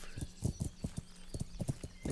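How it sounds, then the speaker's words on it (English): Horse hooves clip-clop in the Kingdom Come: Deliverance video game, a steady rhythmic series of close, hollow hoof beats with a brief whinny-like sound near the end. "I like the way you can just start moving the horse even though you haven't fully mounted up yet"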